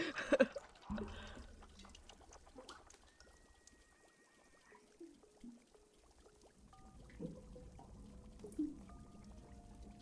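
Water pours and trickles in the video game Wanderstop, soft liquid splashes and drips over quiet game music. The sound is faint and intermittent, with a few louder bursts.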